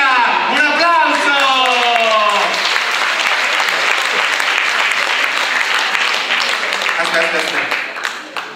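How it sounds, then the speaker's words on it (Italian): A theatre audience bursts into loud, sustained applause at a live water-themed concert, the clapping swelling over a cheering voice at the start and carrying on steadily before tapering near the end. "Un applauso!"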